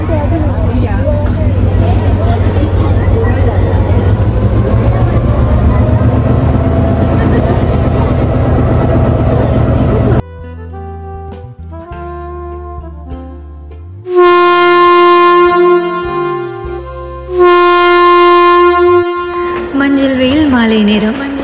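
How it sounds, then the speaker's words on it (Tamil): A train on the Ella to Haputale line in Sri Lanka rumbles and rattles along in a loud, steady low roar, which cuts off about halfway and gives way to clear tonal, music-like sounds. "தடதடவென ரயில் பாடும் கானமும் கொள்ளை அழகு"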